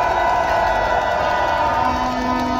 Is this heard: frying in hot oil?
no